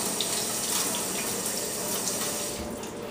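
A bunch of fresh cilantro is rinsed under a running kitchen tap. The water makes a close, constant splashing hiss that goes on without a break, with no voices.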